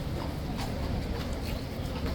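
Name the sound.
King's Guard horse hooves clip-clopping on the street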